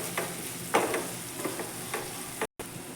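A spoon stirs turmeric and salt through a frying pan of sizzling food, giving several quick scraping strokes over a soft hiss, up close with no talk.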